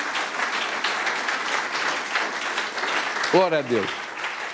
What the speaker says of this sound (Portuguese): Vamos dar um aplauso para Jesus pela vida dele e da Patrícia